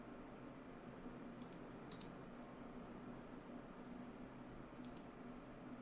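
A computer mouse is clicked in quick pairs of faint, sharp double clicks at a desk while trading chart software is in use, heard a few times against steady low room hum.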